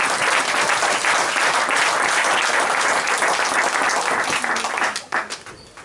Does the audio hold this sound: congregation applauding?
yes